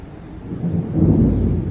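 A deep, swelling rumble of thunder builds and rolls in the second half, loud and low, with faint rain-like hiss in the background.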